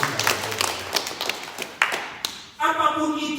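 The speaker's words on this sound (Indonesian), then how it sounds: "Beri tepuk tangan dulu yang meriah buat Tuhan." Scattered hand clapping from a church congregation during a service, uneven taps and claps rising then thinning out before other sound takes over near the end.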